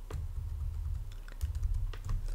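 Typing on a computer keyboard while entering a formula, heard as quick, close, uneven clusters of key clicks with short pauses, with no voice over them.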